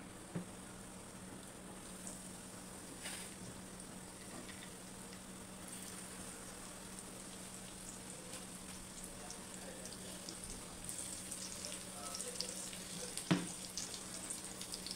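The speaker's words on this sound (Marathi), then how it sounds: "आता आपले प्रॉन्स रव्यामध्ये ॲड करून आपण फ्राय करून घेऊया" Rava-coated prawns fry in oil on a pan, a faint, steady crackling sizzle that carries on evenly, with a soft clink near the end.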